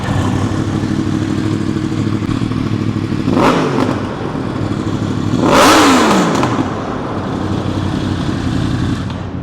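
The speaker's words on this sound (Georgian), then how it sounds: "მოდით ბარემ ძრავის ხმას მოვუსმინოთ." A Yamaha R1 998cc sport motorcycle idles with a loud, steady drone and is revved twice, each rev a sharp rise and fall in pitch. The engine is close and heard alone, with no talking.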